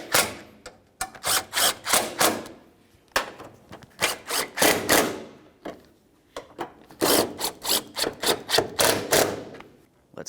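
A ratchet snugs up bumper bracket bolts on a 2003-2007 Honda Accord, giving repeated rapid clicking bursts close up, separated by brief pauses.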